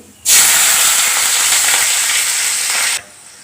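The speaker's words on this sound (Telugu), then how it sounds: "పచ్చిమిర్చి ఉల్లిగడ్డ ఒకేసారి వేస్తున్నానండి పచ్చిమిర్చి వేస్తే ఏంటంటే చిటపడ జీలిపోతుంది" Mustard seeds, green chillies and onions hit hot oil together for a tempering, bursting into a loud, dense sizzle that holds steady for nearly three seconds, then cuts off abruptly.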